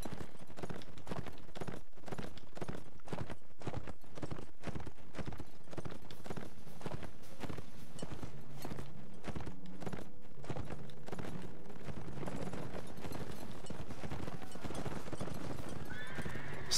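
Horses from the Mount & Blade Warband video game, a steady run of clip-clop hoofbeats from several horses with whinnies and neighs mixed in, close and loud throughout with no talking.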